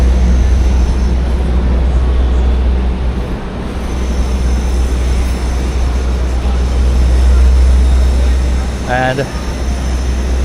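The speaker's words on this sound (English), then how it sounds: "you can always hear the subway underneath" A New York City subway train rumbles beneath the street near Union Square, a steady deep drone running under the outdoor city noise, with a brief spoken word near the end.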